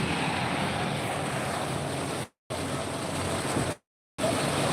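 Dense, steady roar of heavy rain pouring down, broad and continuous, cut by two brief dropouts of silence.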